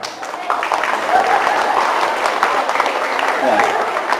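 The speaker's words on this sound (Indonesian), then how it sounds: "silakan tepuk tangan" An audience at a school farewell ceremony applauds, a broad, moderately loud patter of clapping from a crowd that holds steadily, with some voices murmuring underneath.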